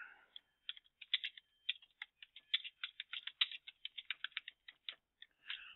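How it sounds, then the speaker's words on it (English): Someone types on a computer keyboard, producing quick irregular bursts of light clicking keystrokes with short pauses, close and fairly quiet, alone without speech. "I'm just typing something in there just to show you"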